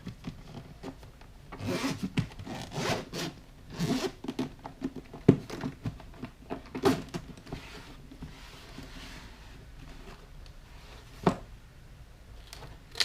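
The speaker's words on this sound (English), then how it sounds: "Two zippers, and it has a carrying strap." A zipper on the carrying case of a 2023 Hulkman Alpha85 battery jumper is pulled open in several short, scratchy bursts, with pauses and light rubbing of the case between pulls.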